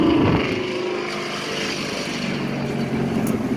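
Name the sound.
loud car driving by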